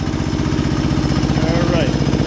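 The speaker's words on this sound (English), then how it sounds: "so that's your DJA, your single cylinder diesel" An Onan DJA single-cylinder diesel generator engine runs loud and close, with a steady, rapid chugging thump throughout and a voice speaking over it.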